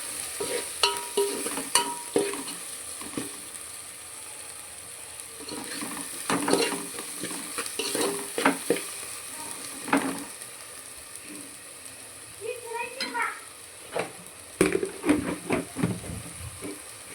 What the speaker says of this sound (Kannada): ಈಗ ಎಷ್ಟು ಬೇಕೋ ಅಷ್ಟು ನೋಡ್ಕೊಂಡು ಖಾರ ಹಾಕೋಣ ಚೆನ್ನಾಗಿ ಮಿಕ್ಸ್ ಕೊಡಿ